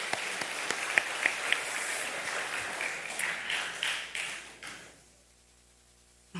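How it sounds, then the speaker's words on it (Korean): A church congregation applauds with dense, steady clapping that carries for several seconds, then thins out and fades away into near quiet. "우리 저분들에게 감사의 박수 드리겠습니다."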